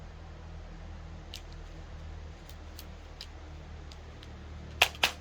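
Byrna SD less-lethal launcher on an 8-gram CO2 cartridge loaded with Joule V2 rounds, heard as two faint, sharp pops in quick succession near the end after a quiet stretch.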